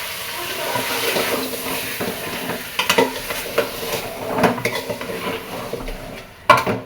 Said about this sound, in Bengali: খাসি মাংসের মাথা রান্না করছি